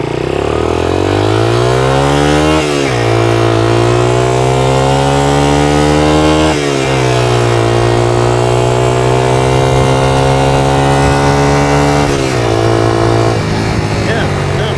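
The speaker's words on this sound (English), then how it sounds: "It did sound like it may be making some cam chain noise." A 1982 Honda XL80S small single-cylinder motorcycle engine runs loud and close, holding a steady idle with a few brief revs; a faint mechanical rattle that may be cam chain noise sits under the exhaust note.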